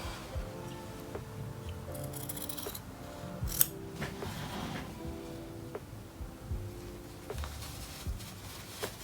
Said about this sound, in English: Then I'm going to cut that.